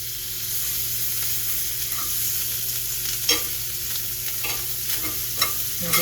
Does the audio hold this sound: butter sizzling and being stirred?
yes